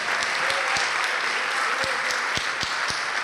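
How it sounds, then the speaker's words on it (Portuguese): A church congregation applauds steadily, a dense wash of many clapping hands filling the space, with a few sharper individual claps standing out near the front. "Vamos aplaudir mais ao nome de Jesus."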